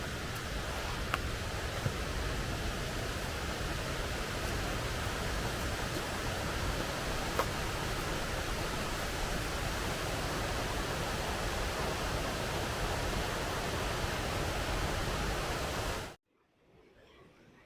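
A waterfall at Arthog rushes in a steady, dense roar of falling water, loud and continuous for about sixteen seconds before cutting off abruptly to near silence.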